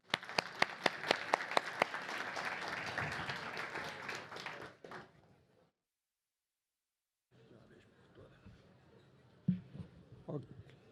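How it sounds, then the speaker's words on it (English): A seated audience at a talk applauds as a former Brazilian minister takes the stage, with strong, dense clapping for about five seconds, then an abrupt silence, followed by faint room noise and a few thumps. "join me in a round of applause for Minister Levy here up on the stage"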